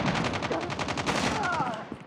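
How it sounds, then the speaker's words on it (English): Rapid automatic gunfire from a Call of Duty Mobile firefight, dense bursts of shots rattling continuously and loud throughout, with no speech. "I got shot!"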